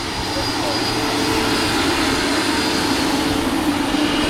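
Electric ducted fan of an RC MD 600N model helicopter, throttled down to about 26,000 RPM, gives a steady, loud, continuous whine and rush of air that stays close and even throughout.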